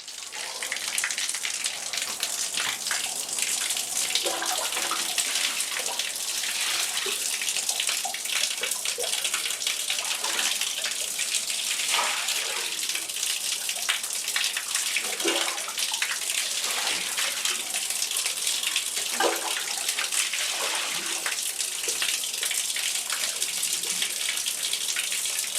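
Water runs steadily down a bathroom floor drain just treated with drain cleaner, a continuous close gushing and trickling flow with small splashy droplets, no voices over it.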